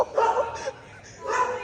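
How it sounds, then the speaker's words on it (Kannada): A dog yips and barks in a couple of short bursts close by, with a second dog kept inside nearby; someone talks over it. "ಇದೊಂದು ನಾಯಿ ಆದ್ರೆ ಒಳಗಡೆ ಇನ್ನೊಂದು ನಾಯಿ ಐತೆ"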